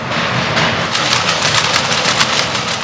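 An old steam-era mill engine that once drove a thousand looms in a cotton weaving shed, now a factory museum, runs with a loud, steady mechanical roar and faint rhythmic pulsing.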